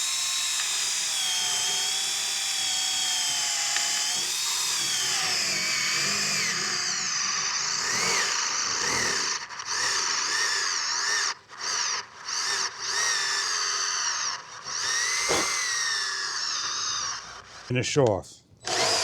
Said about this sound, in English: we'll drill a new hole